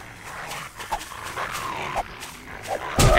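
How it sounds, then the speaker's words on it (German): A dog barks a few times in the zombie survival game 7 Days to Die, with short, mid-distance yips over steady in-game ambience and a sharper burst at the very end. "War das ein Hund?"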